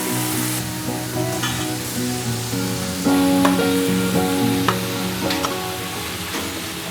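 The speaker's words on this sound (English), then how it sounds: "we're going to add in all our vegetables and brown them off as well" Beef short rib and vegetables brown in a hot pan with a continuous close sizzle and occasional stirring clicks, partly under tuneful background music.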